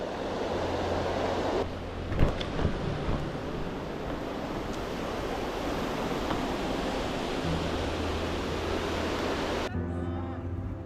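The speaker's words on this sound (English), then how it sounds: "Let's go check out this waterfall. I can hear it." Steady broadband roar of a rushing waterfall in Iceland fills the whole stretch, with some wind buffeting and a faint low hum in the background.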